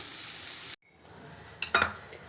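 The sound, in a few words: onion being sautéed in a pan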